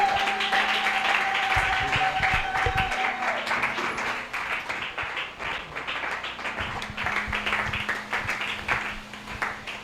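Church congregation at a prayer crusade clapping and applauding together in a long, dense ovation with scattered cheers, while a voice speaks over a sustained organ-like tone.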